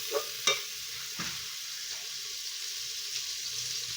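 Chopped meat frying in hot ghee, a soft steady sizzle after a few sharp knocks and clatters at the start, close and without talking.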